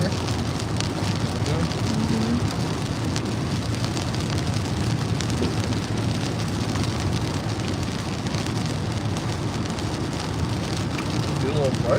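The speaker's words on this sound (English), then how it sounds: "Yes, it is raining, Andy." Steady rain drums on a car's roof and windshield during a road-trip drive, a dense continuous patter close around the cabin, with faint voices underneath.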